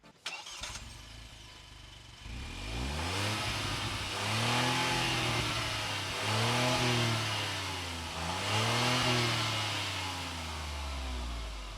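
A 2022 Kia Rio GT-Line hatchback engine starts with a quick crank, settles into an idle, then revs through its tailpipes in three rising-and-falling swells, throaty and close, with no voices.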